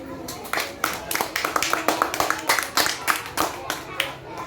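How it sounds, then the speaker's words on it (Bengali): A classroom of students claps for a girl named Ayna, a brisk burst of scattered hand claps that runs for several seconds under a teacher's voice. "আয়নার জন্য একটা হাততালি দাও"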